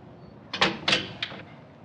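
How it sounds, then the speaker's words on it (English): A door makes a short series of quick knocks or bumps, three or four close sharp hits in a quiet room. "The door."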